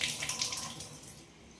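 Water runs from a kitchen tap into the sink in a weak, low-pressure stream, a steady close splashing rush that thins slightly toward the end.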